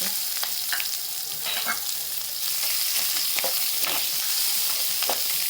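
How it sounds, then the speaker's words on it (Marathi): Thickly chopped onion frying in oil for a peanut and raw mango chutney, a continuous loud crackling sizzle with occasional spoon scrapes against the pan, no voices. "कांदा पण चांगला भाजून घ्यायचा आता तेलामध्ये"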